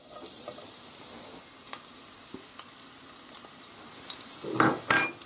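Garlic hitting hot oil in a cooking pot on the stove gives a faint, steady sizzle, with a few light clinks and a louder stirring burst near the end.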